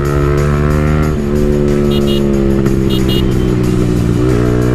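A modified Yamaha R15 V3 motorcycle with an aftermarket exhaust revs loudly and continuously up close, its engine note rising and falling through sustained harmonic drones with no talking.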